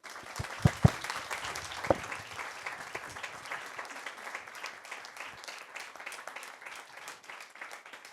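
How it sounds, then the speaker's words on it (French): Applause from a webinar audience, a dense steady patter of many hands with a few louder close claps near the start, running evenly to the end with no talk over it. "Alors, vous avez anticipé, puisque j'allais vous demander d'applaudir Teddy."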